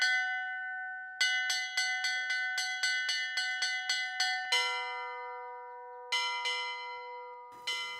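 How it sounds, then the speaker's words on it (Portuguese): A bronze church-style bell is struck by hand in the old call to mass, sounding a quick, even series of bright, ringing strokes that then slows to a few louder hits. It is close and resonant, with no voices. "Então eu vou bater um que eu ouvia sempre, que é para ir à missa."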